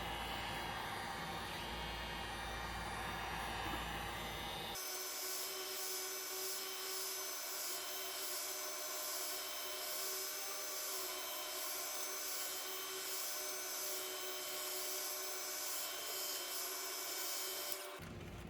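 A heat gun blows a steady, dense roar with no speech over it. Its tone shifts abruptly partway through as it is swept back and forth, then holds constant until a brief change at the very end.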